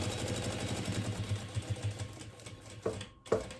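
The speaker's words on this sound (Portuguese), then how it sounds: "Vou costurar, fazer a volta e voltar a costura do outro lado." Sewing machine stitching fabric for a thermal lunch bag made of raw cotton with a thermal lining, a steady mechanical whir, then two short clunks near the end as the stitching stops and turns.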